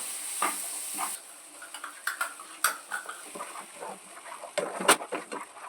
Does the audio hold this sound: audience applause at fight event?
no